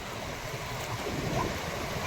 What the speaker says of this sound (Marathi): आमच्या श्रीवर्धन येथील हा अत्यंत स्वच्छ पाणी असलेला समुद्र किनारा आहे.